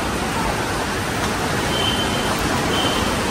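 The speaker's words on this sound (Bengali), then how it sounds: "ভালো বৃষ্টি হচ্ছে, বৃষ্টি হওয়াটা খুব দরকার ছিল।" Steady, dense rain falls without pause, a broad even hiss filling the whole stretch at constant loudness with no voices over it.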